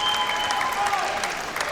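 A packed tennis arena crowd applauds a forehand winner in a 2016 US Open men's semifinal, a dense, steady wash of clapping heard from within the stands.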